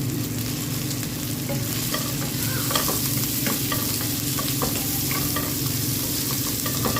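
Pancit ingredients being sautéed in a pan, a steady close sizzle of frying with scraping stirs and small clinks of a utensil, continuous throughout with no talking.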